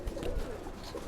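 Domestic pigeons cooing softly in a loft, low murmuring coos repeating through the short stretch over a steady background hum, no voices.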